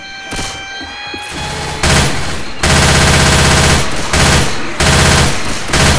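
Loud, close automatic gunfire from Left 4 Dead 2's Swamp Fever level, dense bursts of rapid shots broken by short pauses, with a brief quieter stretch near the start.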